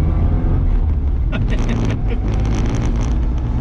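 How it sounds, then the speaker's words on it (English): A classic Mini Clubman driving along, its carburetted engine and induction noise a constant loud drone mixed with wind buffeting, with a voice talking over it briefly. "Feel that lovely carburetor sounds and the induction sound on it."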